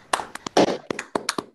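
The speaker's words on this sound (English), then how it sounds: "we can now all unmute and clap and thank all of our speakers" An online audience unmuting to clap and thank speakers at the end of a conference session: scattered, uneven handclaps and taps from a few participants, close and sparse over about a second and a half.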